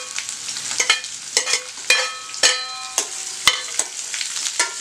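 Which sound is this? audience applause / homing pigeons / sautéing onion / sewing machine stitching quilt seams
sautéing onion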